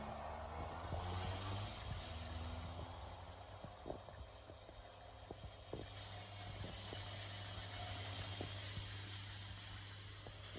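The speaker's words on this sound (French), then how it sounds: "ça fait tourner la pompe et puis ça fait bouger un petit peu l'eau à l'intérieur" A small pump circulating bleach water in a closed circuit inside a bus under conversion gives a low, steady hum. Faint irregular clicks and knocks come through a constant background drone.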